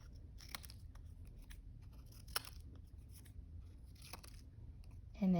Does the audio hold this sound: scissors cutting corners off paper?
yes